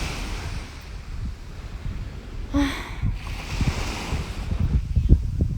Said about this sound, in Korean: 파도 소리 폰 넘머로 들리는 데 너무나 리얼하네요